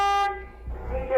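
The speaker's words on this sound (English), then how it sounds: "There's honking." A car horn honks on a residential road in a brief, loud tonal blast that cuts off abruptly, followed by low rumbling background noise and a faint second tone.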